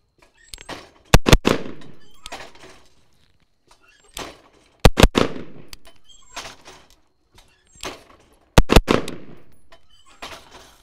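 A rifle fires hammered pairs during a combat drill: three separate bursts of two sharp, loud shots in quick succession, each followed by a ringing decay and a few seconds of quiet.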